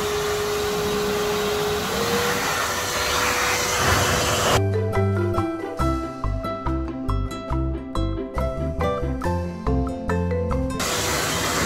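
A compressor-style pet dryer blows a strong, steady roar of air over a wet mini Australian Shepherd at a dog wash, the loud hiss broken midway by a stretch of pulsing, fluttering bursts before resuming.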